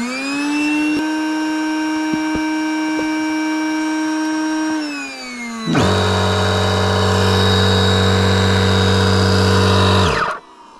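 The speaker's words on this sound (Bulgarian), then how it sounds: "Кила много бързо се помпи направо на страшната помпа, ще го напомпя." A steady electric pump inflating an inflatable boat's keel hums with a whining motor tone, then shifts to a louder, deeper drone as the load changes, cutting off near the end.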